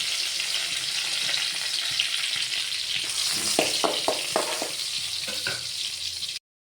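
Chilies sizzle and crackle steadily in hot oil, with a few sharper pops and bursts partway through as the frying continues close by with no talk.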